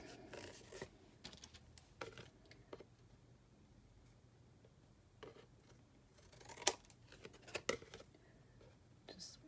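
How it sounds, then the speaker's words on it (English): Scissors cut craft paper for an 8x8 mini album, giving several close, crisp snips in irregular bursts between quiet pauses and handling rustles. "Push your scissors up against the top of that so that it is straight."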